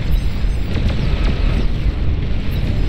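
Juggernaut explosions in the game Beyond All Reason form a dense, continuous roaring rumble, loud and sustained with no clear individual blasts.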